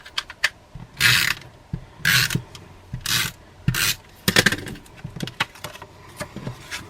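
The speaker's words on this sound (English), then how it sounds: "I'm going to use some snail adhesive on here." A snail adhesive tape runner is run across craft card in several short, raspy ratcheting strokes, each a brief scratchy burst separated by small clicks, close and fairly quiet.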